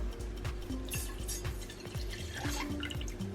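Water pours and trickles into a cooking pot for homemade red bean paste, making a steady close splashing and bubbling flow with little drips. The sound is quiet and runs throughout with no talking.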